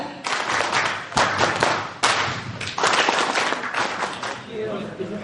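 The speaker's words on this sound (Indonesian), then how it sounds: "kita berikan tepuk semangat Telkom Indonesia" Group performing the Telkom Indonesia spirit clap, a patterned rhythmic clapping routine in bursts of sharp, loud hand claps with brief pauses, at a corporate retirement gathering.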